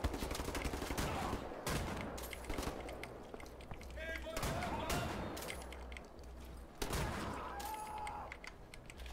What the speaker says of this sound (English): I don't really get to try the shotgun